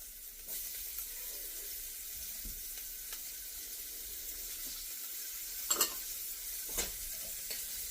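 Diced shallot, carrot and celery hiss softly in a pan for beef osso buco, a low steady sizzle with a few scraping stirs and a sharper clatter near the end, no voices.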